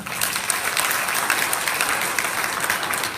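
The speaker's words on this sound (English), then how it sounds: "Let's have a round of applause for him" An audience at a Bayelsa summit gives a round of applause, a continuous wash of many hands clapping at a steady, moderate level without pauses.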